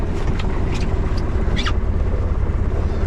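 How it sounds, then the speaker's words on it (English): Boat engine ticking over ahead at low RPM on a trip from Newtown Creek to Chichester, a steady low rumble with faint intermittent clicks and splashes on top, no talk. "I like tick over ahead because again it's a nice test to the engine."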